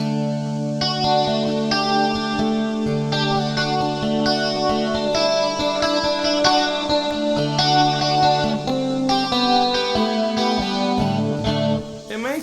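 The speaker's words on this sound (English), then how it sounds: "an envelope filter, some compression, it has a stereo chorus, and then an acoustic simulator all added together" Electric guitar, a Strat, played through an envelope filter, compression, stereo chorus and an acoustic simulator, ringing out a steady run of chords and notes with a shimmering, slightly hissy, acoustic-like tone, close and continuous throughout.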